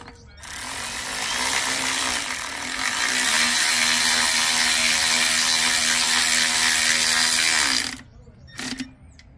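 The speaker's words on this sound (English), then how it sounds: "So you're gonna go ahead and put these 8 10mm screws back into the motor case." A power driver runs 10mm screws into the case of a Honda GCV190 engine: a loud, close, sustained whirring and ratcheting buzz for about seven seconds, then stopping, followed by one short extra burst.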